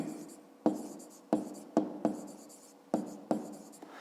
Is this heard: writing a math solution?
yes